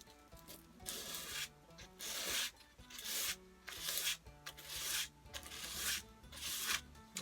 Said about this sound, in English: I'm going to just go up to a finer grit sandpaper and work from there